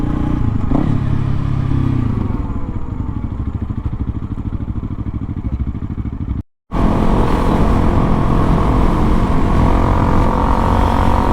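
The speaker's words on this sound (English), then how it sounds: "We got the Suzuki DRZ 400 Supermoto" Suzuki DRZ 400 Supermoto motorcycle engine running close by, a steady loud rumble that cuts out for a split second and then resumes just as strongly.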